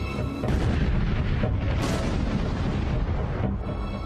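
A heavy weapon firing after clearance, a sustained loud roaring blast that rises sharply then rumbles on without letup, dense low-end power close by, no voices.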